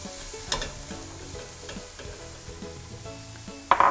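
Vegetables sizzling steadily in a hot pan as carrots are tossed in and stirred for stuffed peppers, a constant close frying hiss with light spatula scrapes and a sharper clatter near the end.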